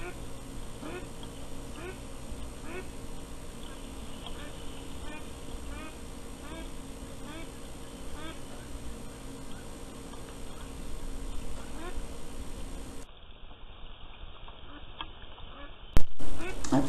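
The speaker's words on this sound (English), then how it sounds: "This next video coming up will be of the ducks quacking." Ducklings about six to seven weeks old quack repeatedly in a busy outdoor chorus with steady background noise; the sound cuts off sharply near the end, followed by a brief thump.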